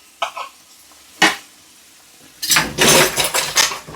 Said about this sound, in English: Give those onions and garlic a stir.